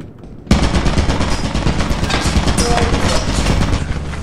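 An automated turret in Lethal Company opens up suddenly and keeps firing in a loud, rapid, unbroken stream of gunfire for several seconds.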